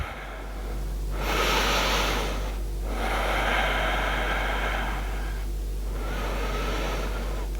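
Three deep, slow breaths during a beginner yoga stretch, each a long airy inhale and exhale close to the microphone, separated by brief pauses with no talking.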